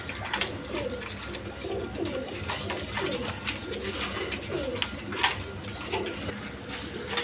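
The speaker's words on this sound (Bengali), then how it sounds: "দর্শক বন্ধু এখানে এক পেয়ার বোম্বাই কবুতর আছে।" Cooing from a pair of red Bombay pigeons sitting on two eggs, a steady layered murmur of soft, repeated coos that runs throughout, close by and moderately loud.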